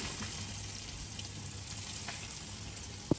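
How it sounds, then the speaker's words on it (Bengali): Hilsa fish frying in a pan, giving a steady, fairly quiet sizzling hiss throughout, with a single sharp knock right at the end. "এখন হলো ইলিশ মাছটা আমরা ভাজবো"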